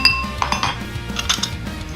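Canned peas stirred into rice in a pot, a quick run of close metallic clinks and scrapes of a utensil against cookware, irregular and fairly loud.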